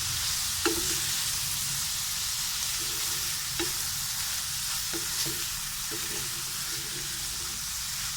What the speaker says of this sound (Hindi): इसको अब हम मिक्स करेंगे।